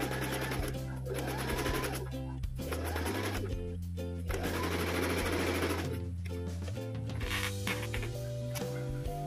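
A Singer M1505 sewing machine stitches nylon Oxford fabric used for bag lining, its needle whirring in steady close bursts that stop and restart several times, with faint speech at moments.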